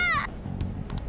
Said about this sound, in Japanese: 猫の声には敏感でね。